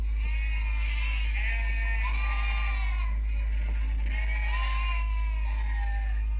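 Hundreds of sheep rounded up and driven down from mountain hillsides bleat repeatedly, overlapping near and far cries rising and falling over a constant low rumble.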